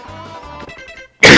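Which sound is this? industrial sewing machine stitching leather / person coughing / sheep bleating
person coughing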